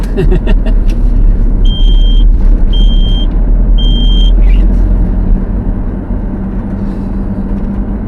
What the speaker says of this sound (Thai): GPS ติดเตือนเลย